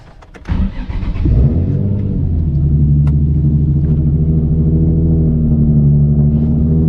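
A Nissan 350Z or Infiniti G35 engine cranks and catches, then settles into a steady, loud, deep idle rumble that continues without talk.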